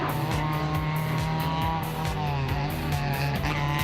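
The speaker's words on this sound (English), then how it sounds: "In his Renault Twingo, young Finn Max Vatanen has his very first taste of tarmac rallying." Renault Twingo rally car driven hard on tarmac during the Geko Ypres Rally, a loud, steady engine drone with repeated rapid gear-change dips and revving throughout, no voices.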